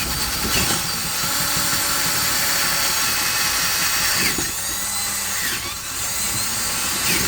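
A power drill bores through two walls and exterior siding for a fiber optic line install. It makes a loud, continuous grinding whine up close, with brief dips in the load partway through.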